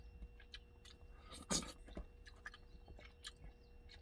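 Close, quiet chewing of beef rice porridge, soft intermittent mouth sounds and small bites in an otherwise still setting.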